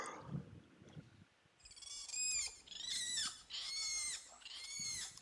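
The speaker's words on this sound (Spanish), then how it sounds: "Escucha los pajaritos." Bright, warbling Amazon jungle bird calls from the video game Green Hell ring out in repeated bursts over a quiet background, like several tropical birds chirping and whistling nearby.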